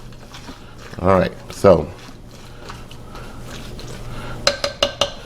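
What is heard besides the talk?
mixing ingredients for Mexican pulled pork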